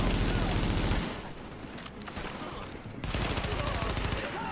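Rapid automatic enemy gunfire in Tom Clancy's The Division, a dense stuttering burst that fades midway, then resumes loud and continuous.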